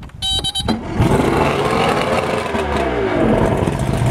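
A Mercury 200 outboard motor on a 1997 ProCraft boat cranks with a short starter whir and clatter, then fires and settles into a loud, steady running rumble close by.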